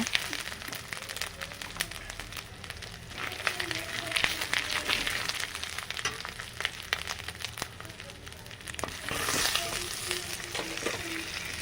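Chilli powder sizzles in a hot pan for chilli chicken and is stirred with a spatula, a steady crackling fry broken by scraping strokes, with a faint voice in the background.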